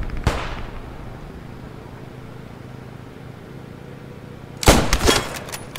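Rifle fire in a military video game, fired from a windmill position at roughly 200 meters: one sharp crack near the start, then a quiet stretch, then a cluster of loud shots with echoing tails near the end.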